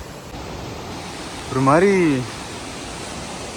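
Water pours steadily at Keralamkundu waterfalls in Malappuram as a broad, even rushing hiss, with a voice speaking briefly over it.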